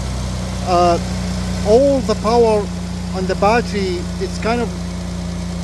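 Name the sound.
3.6 liter car engine idling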